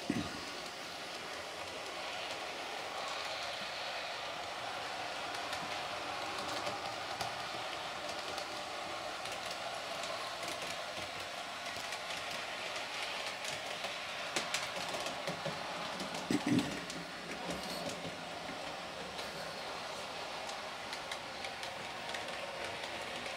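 The wheels of a Bachmann Class 158 model train run along the track in a faint, steady rolling hiss and rumble, with one brief clunk partway through.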